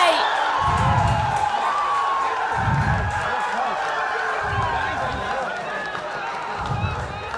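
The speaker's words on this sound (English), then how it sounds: "The way that Queensland fans are celebrating" Queensland fans cheering and whooping in the stands at a women's football grand final against NSW, a loud crowd roar under a commentator's voice, with rhythmic low thumps recurring through it.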